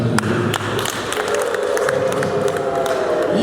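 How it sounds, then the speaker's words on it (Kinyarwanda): Applause and cheering from a gathered crowd at a Rwandan wedding ceremony, a steady dense clatter of many hands clapping throughout with scattered voices mixed in. "tuguhe amashyi"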